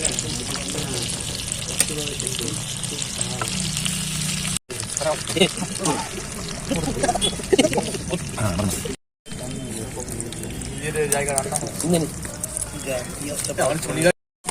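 Pakoras frying in oil during village-style outdoor picnic cooking give a steady, close crackling sizzle that runs throughout, broken by two brief cuts, while people talk loudly over it.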